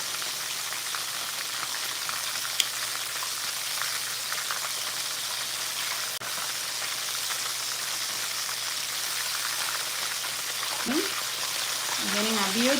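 Corvina fish frying in hot oil, a steady dense crackling sizzle that runs throughout, close and fairly loud, with a brief voice sound near the end.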